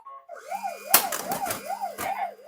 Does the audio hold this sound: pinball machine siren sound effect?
yes